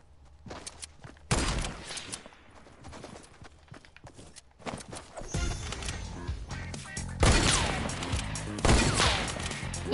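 A hunting rifle fires during a sniper shootout in a video game, with several loud, sharp cracks spaced irregularly over lighter clatter and game noise.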